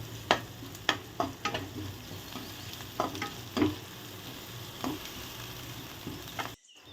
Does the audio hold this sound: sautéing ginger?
yes